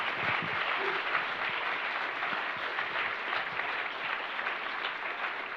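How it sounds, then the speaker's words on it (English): A conference audience applauds a maritime security panel with a steady, dense wash of clapping that continues evenly for several seconds, heard from within the room. "Please join me in applauding this wonderful panel for their contribution."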